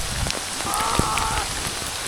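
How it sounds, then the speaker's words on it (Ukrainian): Heavy rain pours down during a gravel bike ride, a dense steady hiss of drops close by with a few sharper patters, loud and alone with no talk. "Ми попали під тучу, просто тут така злива."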